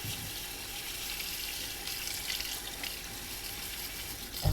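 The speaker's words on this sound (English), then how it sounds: "I'm gonna rinse this out" Running tap water rinses out a tea cup at a kitchen sink, a steady close hiss of flowing water with a brief clunk at the end.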